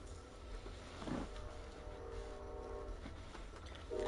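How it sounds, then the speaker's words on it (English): A train passes in the hunting game The Hunter: Call of the Wild, a quiet, steady distant rumble with faint rail clatter and a brief swell near the end, no voices. "Yes, that is a train."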